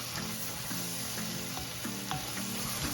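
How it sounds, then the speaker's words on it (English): Onions caramelizing in a pot for French onion soup, sizzling continuously at close range while a wooden spoon stirs through them with soft, scraping strokes. "So we just gotta continue to stir and just get all those"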